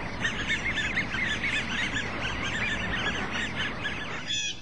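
Dense chorus of geese and other waterfowl honking and calling continuously on a crowded lake, a busy overlapping racket that stays loud throughout with no voices.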